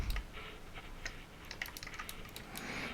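Flat-bladed screwdriver prying and peeling open the plastic casing of a Logitech G502 gaming mouse, giving a run of small sharp ticks, clicks and scrapes scattered across a few seconds, close and fairly quiet with no talking.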